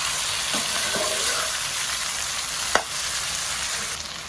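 Chopped chalta (elephant apple) fries in oil for a sweet-sour pickle, giving a continuous bright sizzle with a few stirring scrapes and one sharp clink of a utensil partway through.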